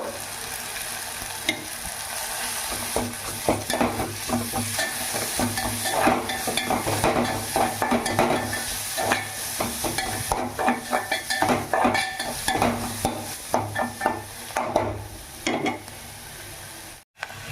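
Country chicken stir-fried with ginger in a pan for Andhra-style naatu kodi iguru, with loud continuous sizzling under repeated scraping and clanking strokes of a spatula against the pan, close and busy throughout, with no talking.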